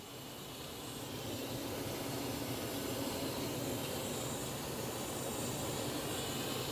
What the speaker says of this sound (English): Right now we've got air going through the exhaust.